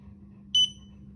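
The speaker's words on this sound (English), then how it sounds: "when it reaches the required torque setting, there's a buzzer" A digital torque wrench's buzzer signals that the required torque setting has been reached: one short, clear, high electronic beep over a quiet hum.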